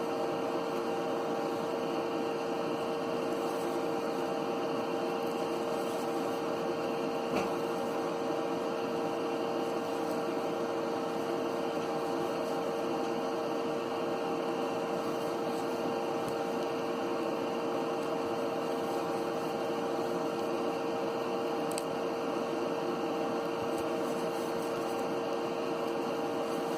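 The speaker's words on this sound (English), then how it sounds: "Yeah, that noise is my computer." A steady whirring computer fan drone, stuck running, with a constant tonal hum, unchanging and fairly loud throughout.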